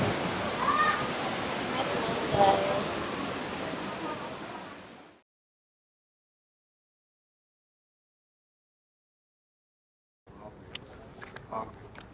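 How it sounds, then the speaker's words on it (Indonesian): Steady rushing splash of a waterfall at Baturraden, Purwokerto, Indonesia, for about five seconds, then abrupt silence, then a quieter stretch of water with faint scattered sounds. "gemericik air terjun"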